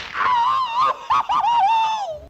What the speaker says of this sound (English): Bill Hanna famously did all of Tom's screams and yells, and this is hands down the best collection of them.